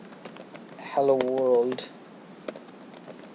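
Quick clicks from a computer keyboard come up close as text is entered in Notepad. Someone speaks briefly over the middle of the tapping.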